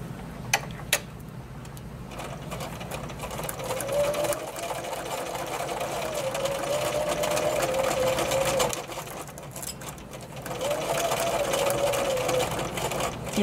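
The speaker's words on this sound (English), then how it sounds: "we're going to stitch these pieces in place using a straight stitch" A home sewing machine runs a straight stitch through pieces of a towel wrap for an 18-inch doll, humming steadily in two long stretches with a short pause between, fairly quiet and with no talking.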